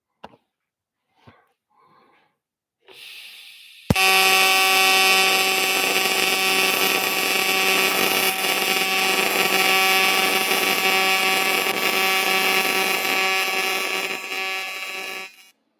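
A TIG arc welds magnesium base metal with magnesium filler, a loud, steady electrical buzz with a strong hum that starts abruptly after a few faint clicks and runs for about twelve seconds before cutting off.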